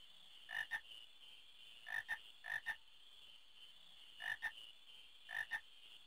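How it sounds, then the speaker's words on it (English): Frogs croak in Final Fantasy IX, clear paired croaks repeating in five quick bursts at irregular intervals over a constant game ambience hum. "I smell frogs."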